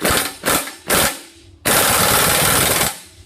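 A loud pneumatic impact tool hammers a Snap-on ball joint remover on a 1995 Honda Civic's lower ball joint, three short rattling bursts followed by one longer sustained burst, close up and without talk.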